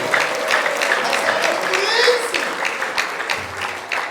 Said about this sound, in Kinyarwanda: Tumukomera amashyi menshi cyane